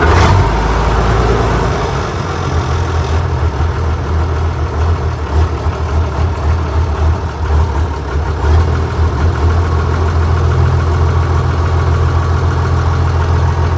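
A tractor engine idles steadily beside a New Holland 7330 hay mower, a loud, close, continuous low rumble with a slight shift in tone early on as the machine is taken out of gear, no talking.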